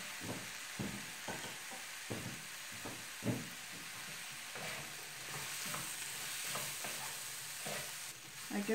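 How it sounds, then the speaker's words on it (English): Vegetables stir-frying in a pan for kung pao chicken, with a steady sizzle and repeated scraping stirs at a fairly regular rhythm, close up and with no talking. "I'm going to put them in and cook them"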